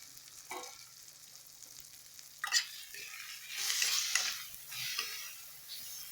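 Fried onions with ginger garlic paste stirred in a pan for a Bengali fish head and cabbage dish: quiet sizzling punctuated by scraping stirs, rising to louder bursts of frying toward the middle.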